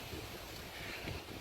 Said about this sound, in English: Sorry, it's really windy out here now.